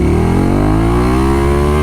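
KTM Super Duke motorcycle engine revving up as the throttle is twisted, a loud, steady close-up roar whose pitch climbs smoothly throughout, with no voices over it.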